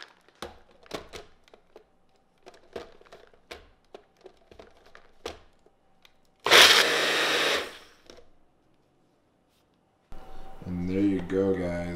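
A blender whirs loudly for about a second and a half while mixing a protein shake sweetened with stevia. Before it, there are tapping sounds and speech, and talking continues after it stops.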